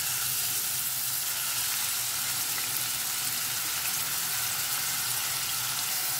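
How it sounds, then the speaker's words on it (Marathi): Onions fry in well-heated oil, a loud, even, continuous sizzle that stays unbroken and hiss-like throughout, with no voices. "तेल न्ही हांव बरें तापलेलें आसा आतां घालता हांव कांदे"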